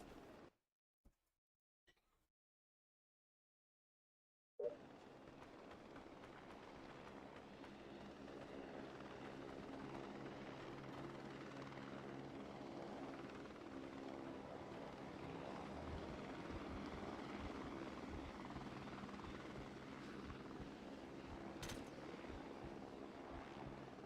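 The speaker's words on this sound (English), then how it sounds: "That helicopter's scary." Helicopter rotor in the video game SOCOM Combined Assault, a dense steady whirring drone that swells in after a few faint clicks and silence, holding loud and constant throughout.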